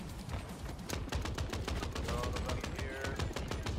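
Rapid bursts of gunfire from the video game Crime Boss: Rockay City, dense and continuous, with sharp repeated shots layered over a busy in-game mix and a voice talking beneath.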